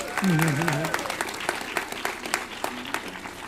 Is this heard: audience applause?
yes